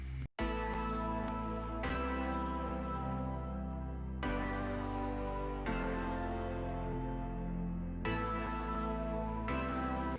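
A drop preset on an old analog-emulation synth plays alone: a dense, sustained chordal tone rich in harmonics that shifts to a new chord every couple of seconds, fairly quiet and steady.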